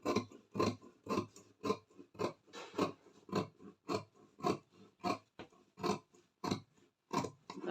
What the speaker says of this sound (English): And cut, and that will be the pocket.